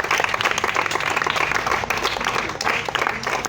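A church congregation applauding, with steady, dense clapping from a large crowd filling the whole stretch, close and loud.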